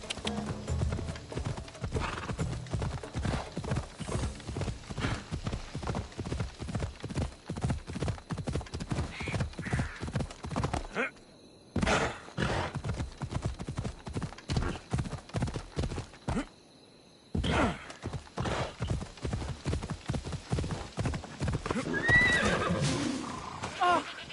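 A horse gallops in the video game Assassin's Creed Odyssey, rapid rhythmic hoofbeats pounding steadily with two brief pauses and a whinny, close and loud, with some game voices near the end.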